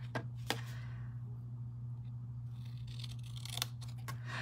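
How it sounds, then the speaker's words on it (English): Scissors snip wedges out of a paper box tab: a few sharp, close cuts spaced apart over a quiet room hum. "I'm going to cut out some wedges"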